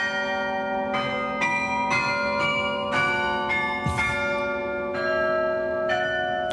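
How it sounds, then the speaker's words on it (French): Carillon bells ring out a well-known melody, one clear note after another in a steady rhythm, with long overlapping resonance. "aussi des airs connus au carillon"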